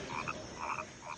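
Frogs croak in short repeated bursts during the rains, several calls close together at moderate loudness with no talking.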